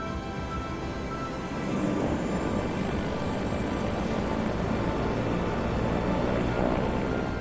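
A military helicopter used for aeromedical evacuation drones in a continuous, loud rotor and engine roar that holds steady throughout, with no voices.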